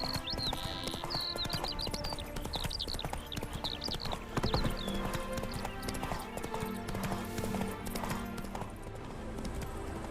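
Roach, a horse in The Witcher 3, with steady clip-clopping hooves and a whinny near the start, faint and mixed in with game ambience.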